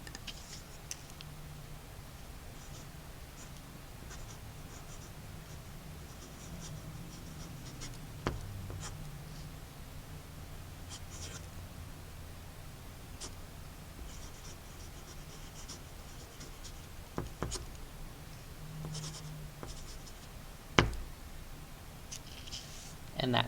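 A ballpoint pen standing in for a dip pen scratches across paper in a steady, faint scritching under a low room hum, with a few sharper ticks and taps scattered through; no one talks.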